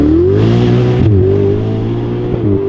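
Ferrari 488 GTB engine revving loud and close, a strong rising and falling mechanical drone with a brief gear-change dip partway through, then holding a steady high note.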